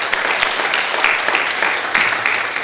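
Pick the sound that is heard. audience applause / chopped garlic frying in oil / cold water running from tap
audience applause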